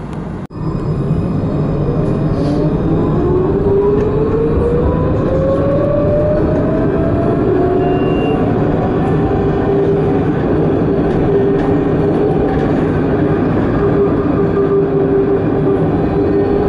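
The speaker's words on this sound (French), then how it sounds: "Tramway T6, direction Hôpitaux Est" Lyon T6 tram heard from the driver's cab, with a steady loud rolling rumble of wheels on rail, a rising motor whine as it accelerates, and continuous track and car noise throughout.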